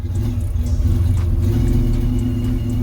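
A car's power steering, low on fluid, groans loudly and steadily while the wheel is turned, a close droning whine over a low engine rumble with no break and no talking.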